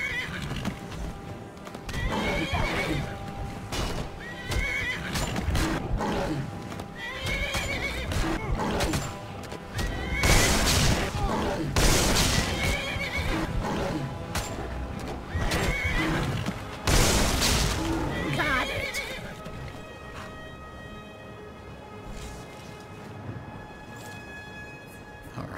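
A horse in Skyrim neighs repeatedly in loud, whinnying bursts while hooves clip-clop, alongside scattered combat and ambient game sounds, tapering toward a quieter stretch at the end.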